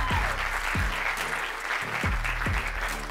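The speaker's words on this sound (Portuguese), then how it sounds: "Pessoal, uma vez mais, um forte aplauso." At a Portuguese stand-up comedy show, the crowd claps in a continuous, loud wash, with a few tonal whoops rising above it.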